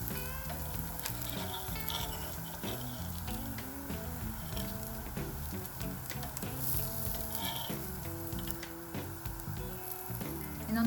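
Crispy rava dosa batter frying thin on a hot pan, giving a steady, dense sizzle with crackling bubbles throughout, close and moderately loud with no talking.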